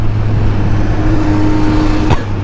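Kawasaki Z900 with an Austin Racing slip-on exhaust idling, a loud steady low rumble close up, with a brief sharp blip near the end.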